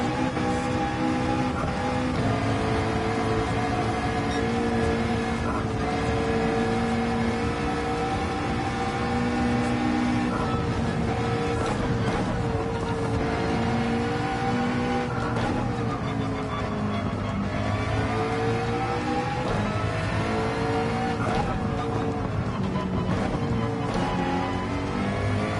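A Ferrari 458 in Gran Turismo 7 holds a loud, steady engine tone that climbs and shifts pitch as it accelerates, with no talk over it.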